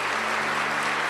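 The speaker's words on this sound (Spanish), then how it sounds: "Denle un aplauso a Jesucristo." Church congregation applauding for Jesus Christ during a Spanish-language Christian program, a brief dense patter of clapping from many hands, steady and fairly loud without voices.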